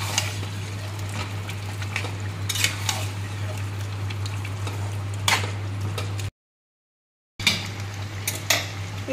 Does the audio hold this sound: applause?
no